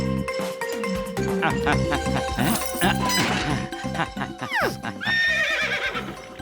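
A voice imitates a horse, giving a loud neigh that rises and falls, followed by a shaky whinny, with bits of other vocal sounds around it.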